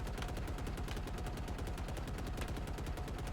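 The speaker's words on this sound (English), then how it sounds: "We are just going to shoot the propaganda tower, trying to ignore the enemies nearby." Rapid automatic fire from a Wasp aircraft in Halo Infinite as it shoots a propaganda tower, a dense, continuous volley of quick bursts at steady loudness throughout, with no talk over it.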